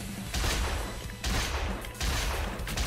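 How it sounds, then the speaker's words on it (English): Rapid gunfire in the zombie shooter School Girl Zombie Hunter, two sustained loud bursts of shots with a short pause between them. "I'm just gonna keep firing!"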